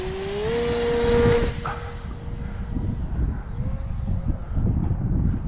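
A Piper J-3 Cub RC airplane's electric motor runs at full throttle, a steady whine that rises in pitch early on, then holds over a broad rushing wind noise, fairly close and continuous.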